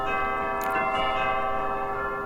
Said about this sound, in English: The bells are ringing.